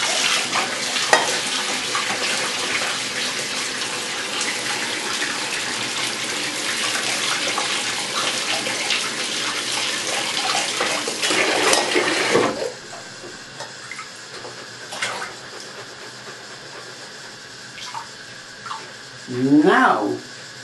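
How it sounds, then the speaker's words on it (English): Rice is rinsed under a running tap to wash off the starch, a steady broad rush of water for about twelve seconds that then stops, leaving faint handling noises and a brief splash near the end. "we're going to do is to rinse all the starch off the rice completely."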